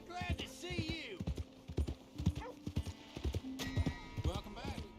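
Horse hooves clip-clop in a steady trot through Red Dead Redemption 2, close and distinct, with game dialogue and a brief whinny mixed in over the hoofbeats.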